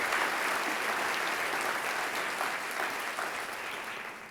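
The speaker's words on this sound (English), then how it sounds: "Can I have another round of applause for the great panel?" Sustained audience applause for a panel at a healthcare systems conference, a steady, fairly loud clatter of many hands throughout, slowly easing off toward the end.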